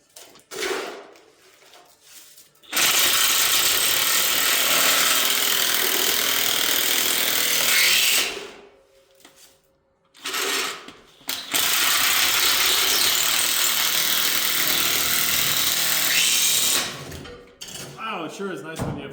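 A 1/2 inch impact driver drives strong drive screws into basement post and beam work, giving two long, loud, continuous hammering rattles separated by short pauses, with brief speech before and after.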